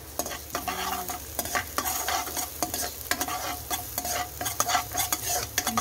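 Garlic frying in a pan for chicken pastil, waiting for it to turn golden brown: a steady close sizzle with repeated scraping stirs and clinks of a utensil against the pan, no talking.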